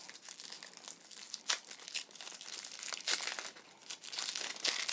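Plastic wrap crinkling and tearing off two decks of cards for a Codenames board game, a close, soft rustle with brief rips, no talking.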